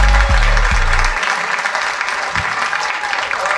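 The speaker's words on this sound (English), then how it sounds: "Clap for Alonzo Bodden, everybody" Audience at a comedy special in Philadelphia bursts into loud, dense applause that rings on steadily throughout, with a low rumble fading early.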